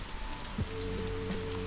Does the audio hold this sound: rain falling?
yes